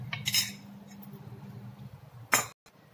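A spoon stirs masala omelet batter in a bowl, giving a low soft swishing with a couple of sharp metallic clinks against the bowl, close and fairly quiet.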